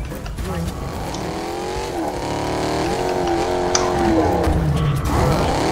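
A car engine in the Fortnite video game revs continuously, rising and falling in pitch, loud and steady throughout, with players talking over it.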